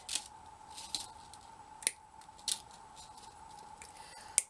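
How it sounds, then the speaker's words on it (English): Small crisp snips of scissors cutting a long bead strand into pieces for handmade tassels, a handful of isolated clicks spread out over a steady faint hum in a quiet room. "I'm just going to cut some off in different lengths"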